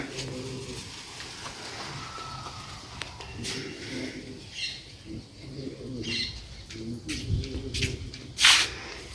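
A pet parrot in its cage set outdoors in the sun at a village home gives repeated soft chirps and calls. Wing flutters and a sharp squawk near the end come through steady background noise.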